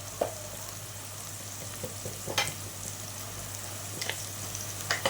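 Onions sizzling in a pan as ginger garlic paste goes in while chicken curry is cooked at home, a steady soft frying hiss broken by a few light scrapes and stirring clicks, fairly quiet with no talk.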